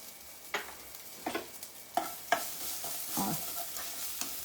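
Crushed ginger and green chilli fry in a little ghee with cumin, with irregular spatula scrapes and taps against the pan over a soft background sizzle.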